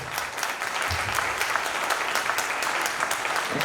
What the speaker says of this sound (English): I would like to just start off by giving our Kings a round of applause